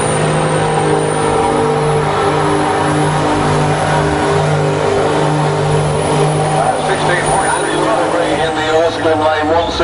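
A drag racing truck holds a loud, sustained engine drone during a burnout at Santa Pod, steady and harmonic with a slight rise in pitch near the end, while a commentator talks over it.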